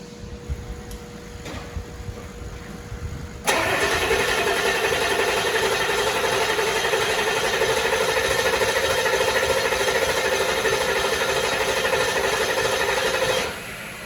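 A 7.3L engine cranks and fires up after a few seconds of quiet background, then runs at a loud steady idle for about ten seconds before the sound drops off.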